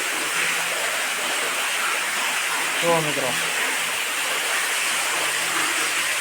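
A high-pressure side borewell in a farm well pours out a constant rushing torrent of water, loud and steady throughout, while someone speaks briefly over it near the middle.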